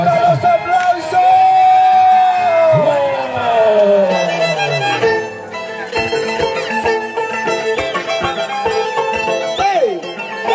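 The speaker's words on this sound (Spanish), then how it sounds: "¿Dónde están los aplausos?" A festival crowd at the fiesta honoring Niño Erqe and Niño Patrón in Huaribamba cheers loudly, with drawn-out whoops and yells close by over a busy, noisy background.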